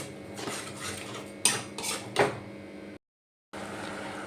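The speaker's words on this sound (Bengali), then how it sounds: "চিনিটা দিয়ে আবার ভালো করে নাড়তে হবে তলায় যাতে না লেগে যায়" Spoon scraping and knocking in a pot while mango jelly is stirred with sugar, several metallic clinks and scrapes up close, then a brief silence before the stirring resumes.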